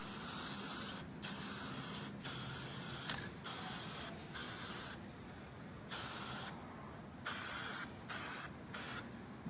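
Short bursts of hissing from a spray paint can coating a custom PVC computer case, a string of separate sprays of varying length with quiet pauses between, close and fairly soft.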